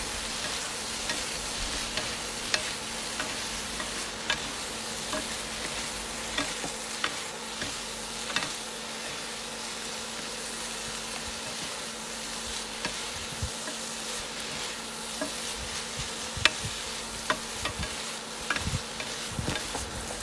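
Mussels stir-fry with basil and yellow chili in a pan, giving a steady close sizzle throughout with scattered scrapes and taps of stirring, no voices.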